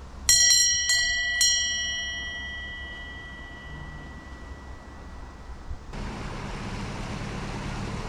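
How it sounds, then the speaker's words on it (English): Several quick rings of a hand bell hung to summon a small river ferry in Manchester, bright and ringing clearly then decaying, followed by steady outdoor ambience with distant traffic. "so let's ring that bell"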